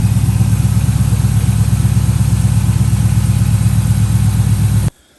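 A 2010-2015 Camaro SS (fifth generation) V8 idles steadily after a throttle body cleaning, a loud, even rumble with a regular pulsing beat that cuts off abruptly near the end.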